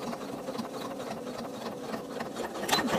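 A sewing machine stitches a jeans hem, a steady rapid mechanical whir with light rattling ticks that stays close and even, ending with a couple of sharper clicks near the end, and no one talks.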